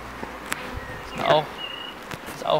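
Honeybees buzz around an open hive during a swarm-control inspection, with intermittent near buzzing passes, light clicks and rustles of handling over a low background.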